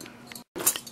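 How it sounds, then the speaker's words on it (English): Homemade fake blood being stirred in a container, giving a few light clinks and scrapes in two short bursts split by a brief silence, close and fairly quiet. "So now what you do is just mix it."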